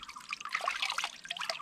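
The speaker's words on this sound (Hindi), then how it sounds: "हाथ में पानी लेना है, उसको डालना है, फिर ऐसे अप्लाई करना है" Water poured by hand onto a freshly hydro-dipped carbon fiber paint part, a soft steady trickle and splash running continuously and close, with no talk over it.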